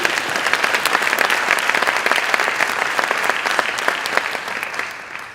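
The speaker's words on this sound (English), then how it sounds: "Let's give them a big round of applause as well." Sustained applause from a school audience honoring teachers, counselors and other staff, dense steady clapping with many hands filling the room throughout, easing slightly near the end.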